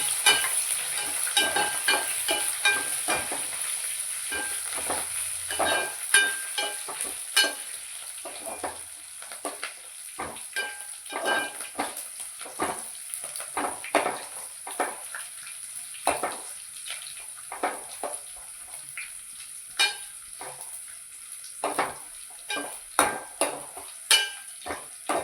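Four or five green chilies fry in a pan for pickle with a continuous sizzle, while a utensil repeatedly scrapes and stirs in irregular clinks.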